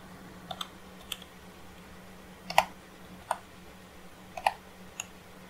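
Keys on a computer keyboard tapped in a quiet room, a handful of sparse, distinct clicks spaced irregularly over a low steady hum, close and fairly soft.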